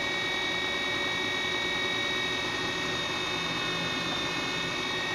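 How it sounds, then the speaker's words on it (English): A 2x72 inch belt grinder grinding metal, a continuous loud hiss and whine with steady high tones and no letup, heard up close. "And it's grinding off more."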